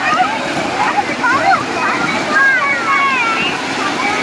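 Kempty Falls in Mussoorie roars as a constant, loud rush of falling water, with voices of visitors and children chattering over it throughout.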